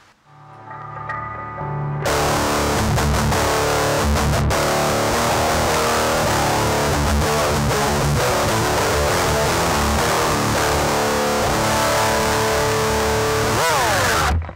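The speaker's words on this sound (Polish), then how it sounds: "to na pewno był mocny przester, bardzo mocny" DigiTech Death Metal distortion pedal cranked with every knob at maximum, a loud, dense wall of saturated guitar distortion sustained for over twelve seconds with no voice.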